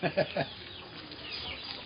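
Farm chickens give a few close, quick clucks at the start, then fade into low background noise.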